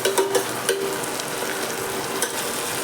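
Chopped banana flower sautéing in hot oil, a steady close sizzle with a few light stirring scrapes near the start.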